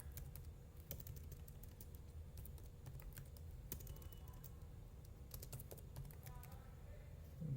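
Keys clatter in irregular bursts on a computer keyboard as a command is typed into a terminal during a molecular docking session, the clicks close and moderately loud over a steady low hum, with brief pauses between keystroke runs.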